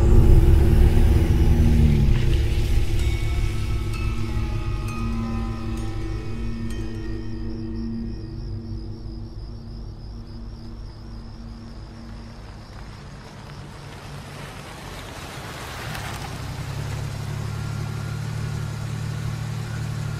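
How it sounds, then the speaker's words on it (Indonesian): A car engine drives off for home, rumbling loud at first, easing to a steady hum, then swelling again near the end, with no voices. "Buru-buru aku langsung tancap gas pulang ke rumah."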